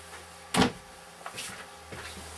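Pantry cabinet door in a 2013 Back Country travel trailer, a single sharp close-up bang or latch click followed by softer knocks and rattles as it moves, in a quiet interior with no talking.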